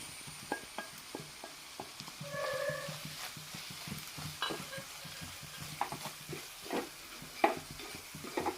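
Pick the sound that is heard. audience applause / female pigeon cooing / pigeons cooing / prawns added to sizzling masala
prawns added to sizzling masala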